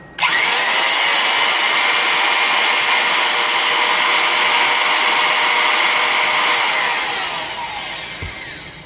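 A retro 1960s Milwaukee S-114 1/4-inch Hole Shooter heavy-duty electric drill runs unloaded at a loud, steady high-pitched whine, its motor in good shape, spinning down briefly at the end with no voices.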